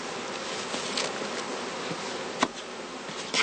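Honeybees buzz in a heather skep apiary while a beekeeper shares them out among boxes and searches for queens. A steady, dense hum holds throughout, with a few brief louder passes from bees close by.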